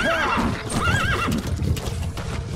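A horse in Metal Gear Solid V whinnies loudly and close, with clip-clopping hooves beneath, then a second rising neigh follows, the hoof clatter continuing steadily to the end.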